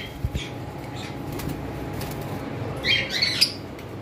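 Ringneck parrot in a cage giving a few soft wing flaps, followed by a pair of sharp squawks near the end over quiet room noise.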